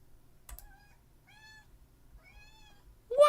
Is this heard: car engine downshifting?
no